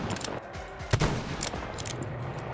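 Rapid gunfire in the first-person shooter Metro Exodus, loud dense bursts of shots crackling close together across a couple of seconds with no talking.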